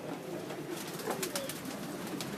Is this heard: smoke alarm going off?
no